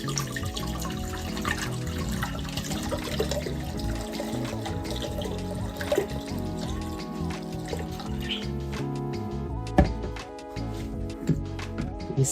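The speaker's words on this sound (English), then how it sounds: "so I'm going to pour 2 cups." Liquid is poured steadily into a container, two cups from a 16-ounce batch for a vanilla bean preparation, giving a continuous close trickle and splash that runs throughout with no talk.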